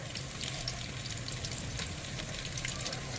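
Salted potatoes frying in hot oil in a pan, a steady close crackling sizzle with a low hum underneath, continuous throughout.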